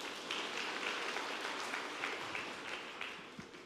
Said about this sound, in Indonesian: Choir kita itu, kita kasih tepuk tangan dulu buat choir tuh.